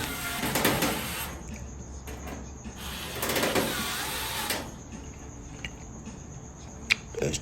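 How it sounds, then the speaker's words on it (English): A power screwdriver drives screws into a bracket on a Whirlpool Duet gas dryer, model WGD9270XW0. Two close, buzzing runs of motor whine and grinding are separated by quieter handling clicks and knocks. "Okay, I'm starting the screws off here."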